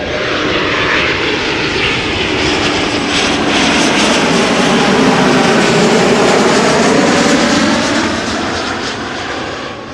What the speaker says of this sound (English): Another twin coming this way. And we have a little Embraer also approaching.